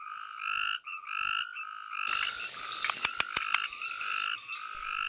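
Frogs call in chorus at night in a Western Ghats forest in India, loud near croaks and repeated pulsing calls overlapping, with a few sharp clicks partway through and no voices.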